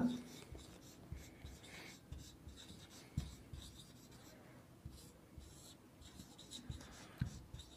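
Pen writing notes on paper or a board during a Hindi chemistry lesson on Dalton's atomic theory, with soft scratchy strokes repeating in short bursts at close range under a quiet room background.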